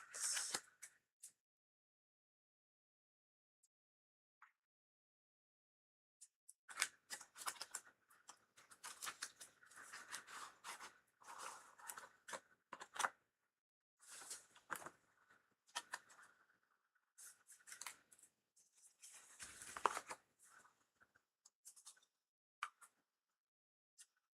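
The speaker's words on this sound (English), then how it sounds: "That was a really nice shuffle." A deck of tarot cards is shuffled in bursts of crisp riffling and clicking, close and fairly quiet, with pauses between and no talking.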